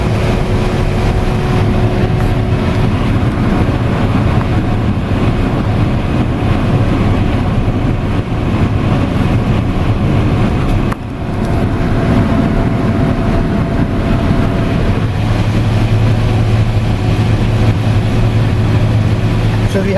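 A combine harvester cuts corn on an organic farm, heard from inside the cab as a loud, constant engine and machinery drone with a low rumble that runs steadily the whole time.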